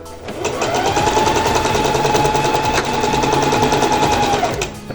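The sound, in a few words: sewing machine stitching a blouse seam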